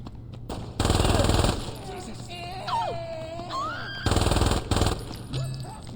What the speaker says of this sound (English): when he fires the SMG, he doesn't like hold it sideways anymore